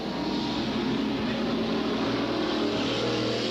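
Street stock race cars run side by side down the back straightaway of an oval track, a loud, steady engine roar that holds without a break at a distance.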